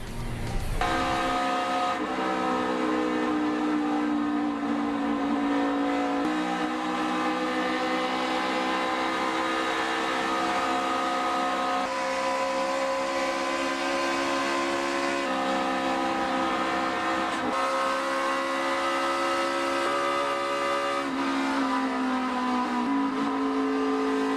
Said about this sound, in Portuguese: Nosso primeiro momento sobe som do programa acompanha algumas das câmeras colocadas dentro dos carros.